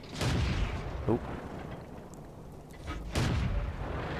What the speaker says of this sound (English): artillery's still shooting that spot